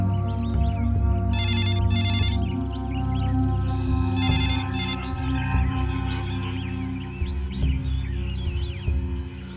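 A telephone ringtone plays loud and close, with repeated electronic ringing bursts over a steady backing tone and no talking.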